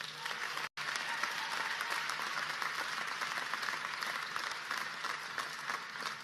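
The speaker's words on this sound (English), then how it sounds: "Give yourselves a round of applause." Graduates and guests applauding at a 2017 public health school commencement, a dense, even roar of many hands clapping throughout, broken only by a split-second cut near the start.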